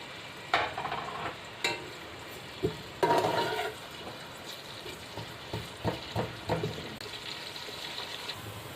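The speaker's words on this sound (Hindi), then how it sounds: "इनको मैं करूंगी अच्छा सा ब्राउन कलर में फ्राई, तब तक इसका गोल्डन ब्राउन कलर ना आ जाए इसको अच्छे से फ्राई करूंगी।" Onions frying in a pan until golden brown for chana pulao, a low sizzling hiss broken by a run of scraping, clattering stirs, close by with no voices.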